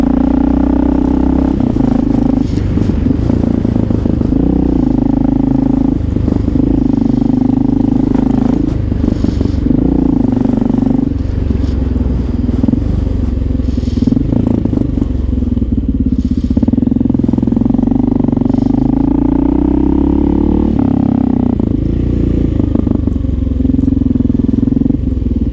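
A Honda XR650L motorcycle being ridden hard through New York City streets, its single-cylinder engine droning and revving steadily throughout, with clattering and road noise mixed in.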